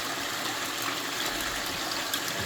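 Water running from a line into a gold panning tub in a basement, a constant gushing flow, close and steady, with no one speaking.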